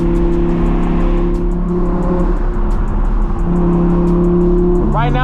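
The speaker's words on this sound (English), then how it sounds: "This car sounds absolutely crazy, bro." A loud, tuned Audi R8 engine drones steadily at night from inside the car, a low sustained roar with a brief lull midway and a rising rev at the end.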